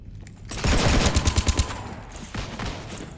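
Rapid bursts of automatic gunfire from the video game Mass Effect 3, loud and close, a dense rattling volley followed by a shorter second burst.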